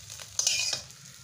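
A fried egg with a little onion is scraped and lifted from a frying pan, a short scraping burst over a low sizzle, close and fairly quiet, with no talking.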